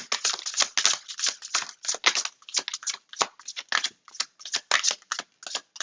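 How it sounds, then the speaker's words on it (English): Tarot cards shuffled by hand close up, a rapid run of crisp riffling and slapping bursts that repeat without pause, with no talk. "let's go ahead and pull some more cards"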